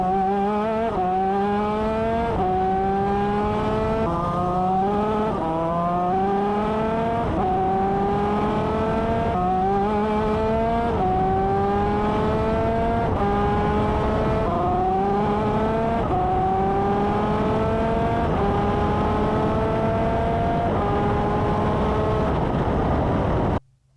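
A racing vehicle heard onboard through a full race lap with a good chain: a loud, steady engine climbing repeatedly through each gear and dropping at every shift, close up and without talk.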